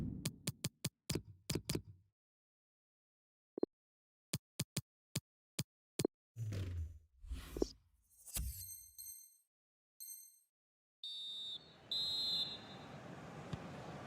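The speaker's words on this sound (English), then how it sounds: "And the whistle is sounded for half-time." Referee's whistle blows for half-time in a FIFA 20 football match, a few short sharp blasts standing out over quiet game sounds and crowd ambience, with no talking.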